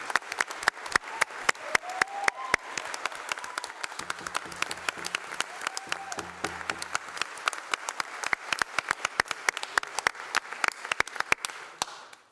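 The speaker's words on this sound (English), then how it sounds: "I'd love everyone to give a great round of applause for Raleigh West" Applause from the members of a state Senate chamber, a dense run of sharp claps that carries on steadily for about twelve seconds before tapering off at the end, with faint murmuring underneath.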